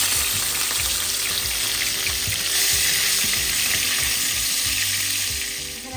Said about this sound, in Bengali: আমি হচ্ছে এই যে রসুন বাটা সাথে পেঁয়াজ কিছু দিয়ে দিচ্ছি।